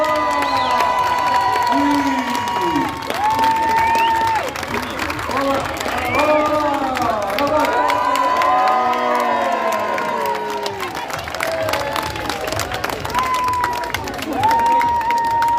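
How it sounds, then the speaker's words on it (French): An arena crowd at a taureau piscine bull game in Saint-Laurent-d'Aigouze cheers, whoops and shouts, with children's high voices prominent and applause mixed in, loud and sustained throughout. "Allez, on tourne, on applaudit cela."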